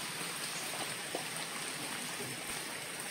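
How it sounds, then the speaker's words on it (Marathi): Heavy rain pours down in a dense, steady hiss with a constant rushing wash and no breaks, loud and close, with no voices. "पाणी भरपूर पडतंय आणि जोरात झालं तर मला पूर्ण भिजवेल."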